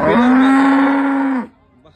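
A Jersey cow at the Pileru cattle market gives a single loud, close moo, a steady droning call held for over a second before cutting off into quiet background.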